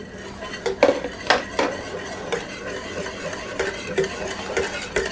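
Thanksgiving turkey gravy with stock and heavy cream stirred in a pan, a utensil scraping and clinking against the metal in quick irregular strokes, close and fairly loud with no talking.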